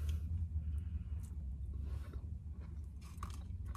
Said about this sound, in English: The sweet potatoes are still crunchy.